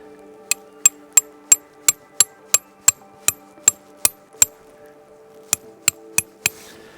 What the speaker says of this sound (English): So I'll go ahead and hammer in this stake.